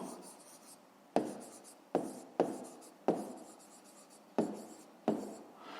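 Pen writing on paper while working a fifth-grade maths exercise: soft scratchy strokes with several sharp taps as the pen meets the page, close and quiet, no speech.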